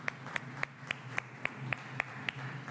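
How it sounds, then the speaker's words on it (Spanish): Sparse, evenly spaced hand claps, roughly ten sharp claps at a steady rhythm, fairly quiet and close, marking applause for a Quini 6 lottery winner during a televised draw. "Enorme aplauso para este feliz ganador o ganadora, feliz millonario."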